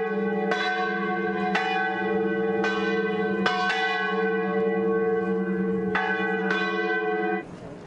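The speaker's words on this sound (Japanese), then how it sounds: "夕方6時の鐘が鳴ると、それを合図に伊保神父は席を立ち、大聖堂に向かう。" A cathedral bell in the Italian village of Pienza rings the 6 pm hour with loud, resonant strokes. Each stroke comes at an uneven interval and leaves a long, humming ring, and the sound stops abruptly near the end.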